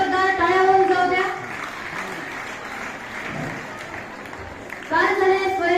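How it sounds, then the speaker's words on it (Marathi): Applause from a crowd, likely students, at a self-governance day school event at a residential secondary school, a dense patter of clapping in the middle stretch, with a voice speaking before and after it. "एक तर जोरदार टाळ्या होऊन जाऊ द्या."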